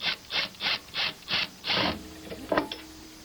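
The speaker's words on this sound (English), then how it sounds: "let's go ahead and take this plate loose so I can look at it real quick" Screws are backed out of a slot machine plate: a run of six rhythmic scraping, ratcheting strokes, close and fairly loud, followed by a couple of brief clicks and rattles.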